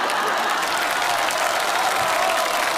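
A theatre audience at a variety show of folk drum-singing, sketches and acrobatics applauds, a dense, even wash of clapping that holds steady throughout without a break.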